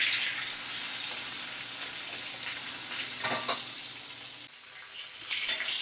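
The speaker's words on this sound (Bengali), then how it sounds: "মাছগুলোকে আমি ভাজছি।" Prawns sizzle steadily in hot oil in a pan over a medium flame, a continuous close crackling hiss with a few brief louder spatters and stirring sounds, and no one talking.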